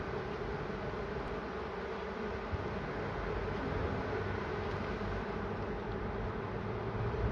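Honeybees being shaken from frames into a hive body during colony transfer onto foundation: a dense, continuous buzzing drone, steady and close, with no talk.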